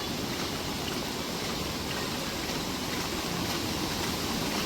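Fast-flowing floodwater rushes through a stream near a bridge in Furus village, Khed, during heavy monsoon rain, a steady, dense roar of churning water that holds an even level throughout with no voices.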